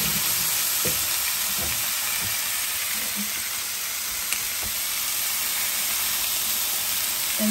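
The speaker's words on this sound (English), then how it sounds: "I'm gonna go ahead and start sauteing like the onions and then the garlic" Onions, garlic, tomatoes and ground beef sizzle steadily in a pan, a constant close frying hiss with occasional clinks and stirring scrapes.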